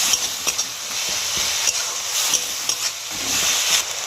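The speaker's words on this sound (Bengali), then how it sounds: "রসুন বাটাটা দিয়ে দেবো। দিয়ে ভালো করে মশলাটা কষিয়ে নেব।" Garlic paste and spices sauté in a pan for a Bengali chana masala, giving a steady close sizzle with soft stirring scrapes throughout and no talking.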